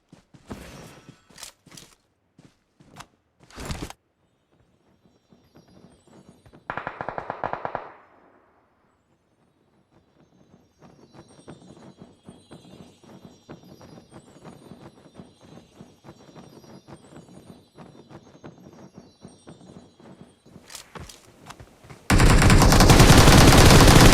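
Gunfire from the battle royale game PUBG: scattered single shots and short bursts, then a long stretch of rapid automatic fire, ending in a loud dense burst of noise.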